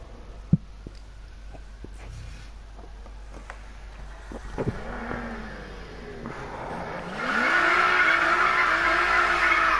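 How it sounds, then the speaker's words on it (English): A Nissan Skyline engine in the racing video game Need for Speed (2015) revs through several rising pulls with short gear-change dips, then settles into a loud, sustained roar with hissing wind noise. "the Skyline in this game is exactly how Skyline sounds in real life"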